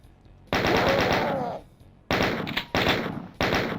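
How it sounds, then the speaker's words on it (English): Rapid chain gun fire in the game Doom (Smooth Doom), loud sustained automatic bursts: one long stream, then three shorter bursts separated by brief gaps. "When you shoot the chain gun, it kind of winds up for like a few frames."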